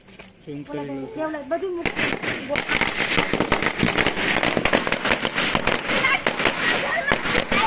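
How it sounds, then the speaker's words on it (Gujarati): At a birthday celebration, a string of firecrackers bursts into rapid, loud crackling pops that run on without a break, with people talking under the noise. "ફટાકડા"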